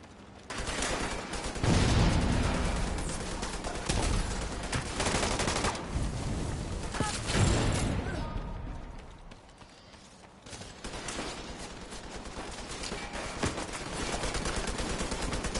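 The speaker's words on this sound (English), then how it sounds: "Got the mini tank trying to kill me here." A mini tank in The Division 2 keeps up rapid, sustained machine-gun fire, loud and rattling throughout with a short dip in the middle.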